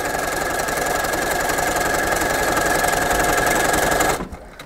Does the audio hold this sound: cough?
no